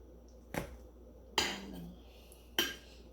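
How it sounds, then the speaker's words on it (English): Three sharp metallic scrapes of a utensil against a pan while cooking tofu, spaced apart and close up, with no talking. "I'm just gonna scrape off the excess"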